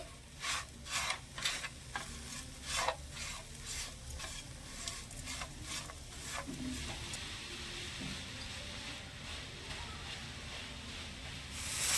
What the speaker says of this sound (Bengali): এবারে দিয়ে দেব চিনি আমি এখানে দুই টেবিল চামচের মতন চিনি নিয়েছি ভালো করে মিশিয়ে নেব চিনি দিয়ে